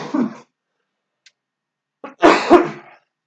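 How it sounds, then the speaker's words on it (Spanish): Two short bursts of coughing separated by a pause, close and fairly loud, with a tiny click in between. "me tomé un momento para toser"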